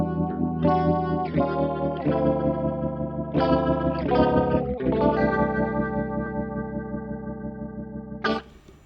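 An electric guitar runs through a Boss GX-10 with a fast rotary Leslie-style chorus effect, playing sustained chords that swirl and shimmer, each new strum ringing out before a final sharp stab.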